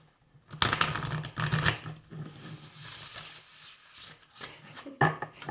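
A deck of tarot cards is shuffled close by by hand, with a long riffling and rubbing burst, then quieter scattered card rustles and a final quick riffle.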